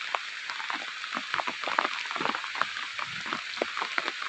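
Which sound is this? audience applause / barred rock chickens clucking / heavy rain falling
heavy rain falling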